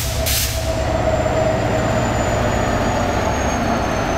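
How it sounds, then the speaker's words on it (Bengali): Chattala Express hauled by 2000 horsepower MEIB locomotive 3007 rolls along with a loud, steady rumble and a thin high wheel squeal, no voices. "আর এটা হচ্ছে 3007 লোক MEIB, অর্থাৎ 2000 হর্স পাওয়ার সম্পন্ন আর কি আমাদের এই আজকের লোক।"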